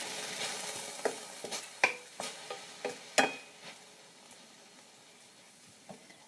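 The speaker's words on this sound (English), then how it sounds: "And we're going to stir all that good stuff up." Kale greens with spicy brown mustard are stirred in a pot: a series of sharp scrapes and knocks, about eight, over a faint steady sizzle, then dying away to near quiet.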